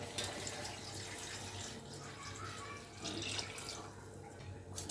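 Tamarind water poured from a strainer into a pot of dal, a soft continuous trickle and splash, faint and close, running steadily without pause.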